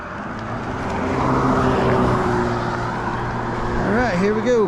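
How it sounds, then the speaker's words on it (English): Cars on a road passing an ebike rider, a broad rising and falling wash of tire and engine noise with a distinct whine sweeping past near the end. "Man, there's a lot of cars."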